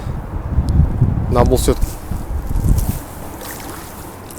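Strong, gusty wind sweeps across frozen Lake Kisloe in early November, making a loud buffeting rumble on the microphone that swells and eases while someone talks over it.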